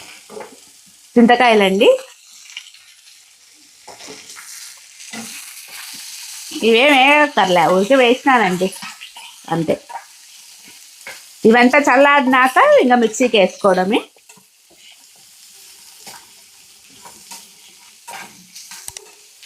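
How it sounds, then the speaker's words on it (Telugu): Fresh coconut and raw tamarind fry for chutney in a pan, a soft hiss running throughout with scraping stirs, while someone talks in short bursts over the cooking. "కొద్దిసేపు ఇవి వేగి"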